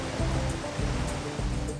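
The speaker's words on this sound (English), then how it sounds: "There are rapids all the way down the Devil's River." Loud, steady rush of river rapids on the Devil's River, Texas, a continuous churning roar of fast water with low rumbling surges and no voices.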